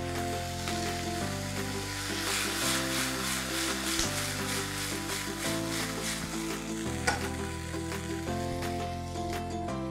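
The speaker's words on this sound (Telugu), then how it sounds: "ఇప్పుడు టొమాటోస్ వేస్తున్నా." Tomatoes hit a hot pan and sizzle steadily, a dense continuous frying hiss holding at moderate volume for the whole stretch, with no voices over it.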